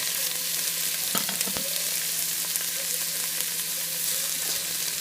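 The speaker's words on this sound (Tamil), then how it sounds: "இந்த பச்சை வாசனை போகிற அளவுக்கு இந்த வெங்காயம் கொஞ்சம் வதங்குற அளவுக்கு வதக்கிக்கிறோம்" Onion sautés in a pan for a vegetable kurma, a dense, even sizzle filling the whole stretch, with a couple of brief clicks from a spoon stirring nearby and no voices.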